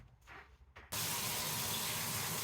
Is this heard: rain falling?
no